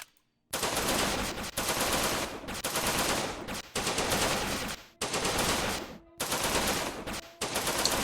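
Rapid automatic gunfire in the video game Decks of Dexterity comes in about six loud, dense bursts. Each lasts roughly a second, with brief silent gaps between them.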